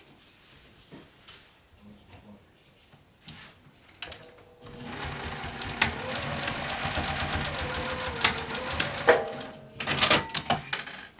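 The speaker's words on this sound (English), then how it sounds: "I just top stitch 1/8 of an inch away on that folded edge" A sewing machine starts up and runs steadily with a rapid, rhythmic stitching chatter, after some quiet handling clicks and rustles.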